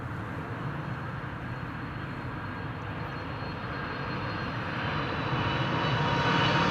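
A fixed-wing airliner landing at Amsterdam Schiphol Airport, its engines roaring steadily close by and growing a little louder toward the end, with no talk over it.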